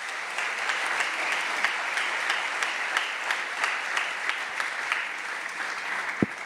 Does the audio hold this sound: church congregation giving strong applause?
yes